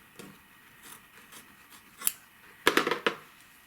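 Scissors trim quilt fabric on a Kimberbell Wallflower quilt, with a few soft isolated snips followed by a quick cluster of crisp, close cuts near the end. No voices.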